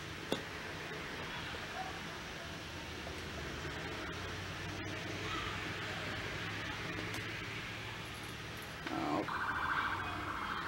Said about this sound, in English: Here go the sirens.